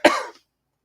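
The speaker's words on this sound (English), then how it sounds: "And I still got this damn cough." A single harsh cough, close and loud, fading out quickly into silence.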